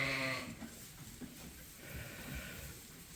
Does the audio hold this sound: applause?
no